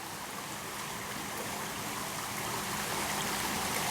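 Water in a small creek flows steadily at night with a broadband, even rush and trickle that holds close and constant from start to finish, with no voices.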